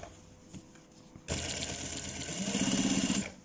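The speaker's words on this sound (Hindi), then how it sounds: "तो किनारे की सिलाई लगा रहे हैं हम इसको।" A tailor's sewing machine stitches along a fabric edge, starting abruptly after a quiet moment and running as a fast, even mechanical rattle with a rhythmic hum, close and loud.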